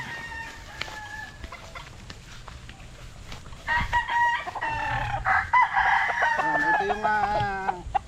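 A young gamecock stag, recently trimmed, crows loudly and close by, and other chickens cluck and crow around it. Someone talks quietly in the background early on.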